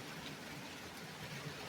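Rain falling on an April day in upstate New York, a faint, even hiss of steady drops with no voices.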